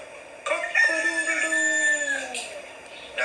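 A single drawn-out cock-a-doodle-doo crow of a cartoon rooster, loud and close, apparently voiced by a person imitating the bird.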